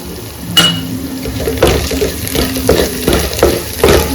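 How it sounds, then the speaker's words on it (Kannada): Onions frying in a pan for Kannada-style chicken roast, a steady close sizzle with intermittent stirring scrapes and clinks of a utensil against the pan, no one speaking. "ಆನಿಯನ್ ಇಷ್ಟು ಫ್ರೈ ಆಗಿದೆ"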